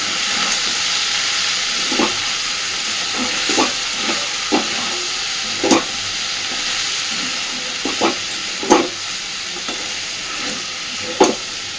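Snake gourd (chichinga) curry sizzles and fries steadily in a pan, a continuous close hiss broken by occasional stirring scrapes and soft clicks.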